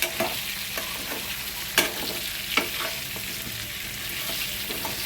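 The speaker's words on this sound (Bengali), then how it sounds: "এবার পটলটাকে ভালো করে ভেজে নিতে হবে।" Pointed gourd (potol) fries in a pan with a steady, soft sizzle, broken by a few sharp scrapes and taps as it is stirred nearby, with no one speaking.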